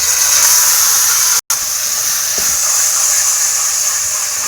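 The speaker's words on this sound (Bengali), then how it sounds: "মুগ কড়াইটার মধ্যে দিয়ে দেবো।" Boiled moong peas tipped into hot spiced oil in a pan while cooking an egg chicken tadka, giving a loud, steady sizzling hiss that cuts out for a split second and then carries on evenly.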